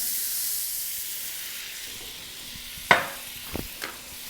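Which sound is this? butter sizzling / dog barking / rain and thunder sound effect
butter sizzling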